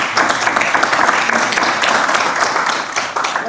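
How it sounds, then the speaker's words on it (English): Audience applause at a high-level African Union conference side event, a steady mass of clapping at moderate volume, with a faint murmur of voices mixed in beneath it. "That clap was for me."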